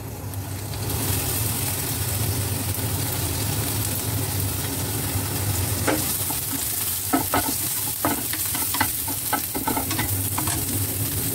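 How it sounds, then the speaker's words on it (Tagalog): Onion sautés in oil in a pan for a tomato and egg stir-fry, giving a steady sizzle and crackle, and the spatula scrapes and stirs in short clattering bursts during the second half. "Magsaute na tayo ng ating onion."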